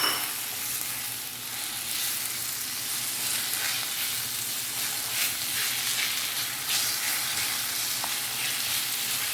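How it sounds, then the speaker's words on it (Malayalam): Chopped boiled eggs sizzle and fry in a pan for an egg stir-fry, with a continuous crackling hiss and soft stirring scrapes throughout, no voices. "അതിനുശേഷം കട്ട് ചെയ്ത് വെച്ചിരിക്കുന്ന മുട്ടയും ചേർത്ത് നന്നായി ഇളക്കി യോജിപ്പിക്കണം."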